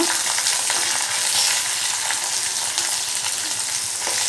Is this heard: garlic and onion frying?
yes